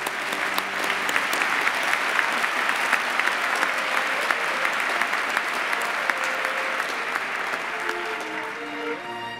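Steady, sustained audience applause for graduates at a postgraduate ceremony, many hands clapping evenly throughout with no breaks.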